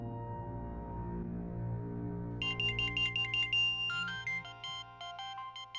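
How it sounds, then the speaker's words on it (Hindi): A phone ringtone plays on its own in a quiet room: a melodic electronic tune of quick repeated high notes beginning a few seconds in and continuing in a steady looping pattern. "लो, आ गया तुम्हारे भाई साहब का फोन।"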